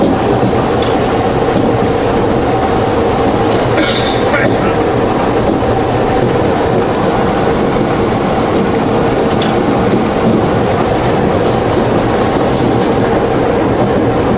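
Steady, loud rumble of a CountryLink passenger train rolling along the rails between Sydney and Bathurst, Australia, with continuous wheel and track noise and a few brief rattles and clanks along the way.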